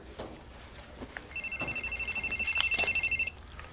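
A cell phone rings in a quiet room, a clear pulsing electronic trill repeating rapidly for about two seconds before stopping, with faint background sounds before and after.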